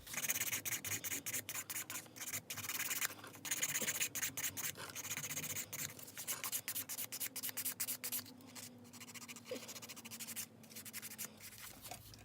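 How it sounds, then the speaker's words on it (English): Quick, scratchy strokes of a nail file smoothing a glitter dip powder nail, close and rhythmic, continuing at a fast steady pace with brief pauses. "And then you just go ahead and file this whole thing."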